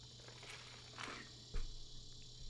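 Cicadas drone and buzz steadily in the background, a faint high-pitched continuous hum with no talking.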